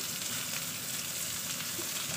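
Bell pepper sizzles steadily in a hot pan, a continuous close crackling hiss with no voices.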